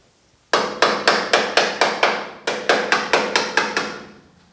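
Loud, evenly spaced metallic hammer blows on sheet metal of a 1950 Chevy truck cab, about fifteen strikes in two quick runs with a brief pause between, each with a short clanging decay.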